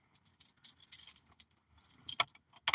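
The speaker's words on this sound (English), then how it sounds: "Keys." A bunch of keys jangling in several short, bright metallic bursts with quiet gaps between them, close by and fairly soft.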